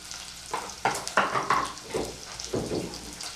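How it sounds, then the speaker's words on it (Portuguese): Sizzling of onion, garlic and bell pepper frying in a pan, with several bursts of crackling as the food is stirred or moved. "Então eu vou deixar aqui fritando um pouco."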